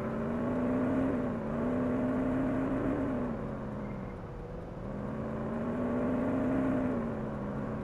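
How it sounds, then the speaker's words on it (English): A steady, low V8 engine rumble in a police video game, with a deep droning tone that rises and dips slightly, like a heavy vehicle idling and revving gently, with no talking. "hear the rumbling of the V8 engine that's inside this thing"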